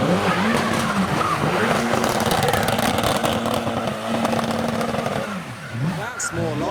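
Jaguar F-Type sports car with a 1.6 litre engine revving hard, a loud, rough engine drone with rising and falling pitch sweeps and tyre squeal, while voices talk over it.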